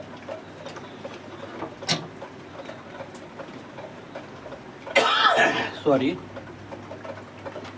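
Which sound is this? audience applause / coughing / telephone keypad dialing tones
coughing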